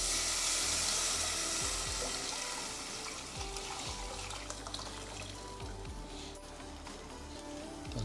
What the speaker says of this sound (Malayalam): തക്കാളിയും പുളിയും ഉപ്പും ചേർന്ന വെള്ളം ഇതിലേക്ക് ഒഴിച്ച് കൊടുക്കുക